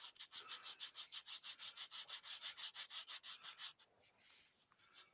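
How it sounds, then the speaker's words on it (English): Rhythmic back-and-forth strokes of hand sanding on an ash wood vase, a rapid, even rasping pulse that runs steadily and then slows into a few looser strokes. "I'm hand sanding."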